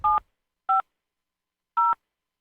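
Three short, clean telephone keypad tones, spaced unevenly in otherwise silent surroundings.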